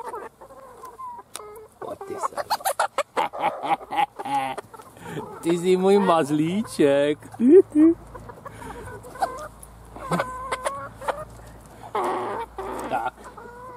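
Hens and roosters cluck busily while pecking sea buckthorn berries from a hand, with close, irregular clucks and squawks throughout and a person talking softly over them.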